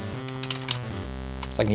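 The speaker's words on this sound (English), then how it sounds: "play a scale, just going up and down, playing down on my keyboard" Synthesizer notes in Audio Sauna played from a computer keyboard, a short stepwise scale of sustained tones with a voice joining near the end.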